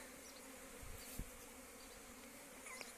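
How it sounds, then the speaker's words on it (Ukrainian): Honeybees hum in a continuous low drone at an apiary in spring, a whole swarm buzzing steadily at a distance with occasional closer passes, and no voices. "Пасіка гуде, бджола гуде, працює."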